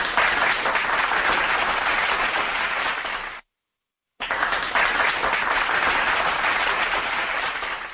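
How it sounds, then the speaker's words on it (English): Audience applause closing a talk session on the future of modern women, a dense steady roar of clapping that cuts out completely for under a second midway, then resumes just as strong. "So let me give LeTisha Underwood her round of applause"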